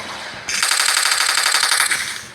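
Rapid automatic gunfire from a warfare video game on a new map, a brief lead-in followed by a dense, loud burst of rattling shots that runs close and continuous for nearly two seconds before cutting off, with no talking.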